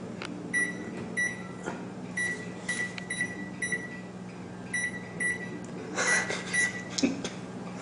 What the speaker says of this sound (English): Now put it in the microwave.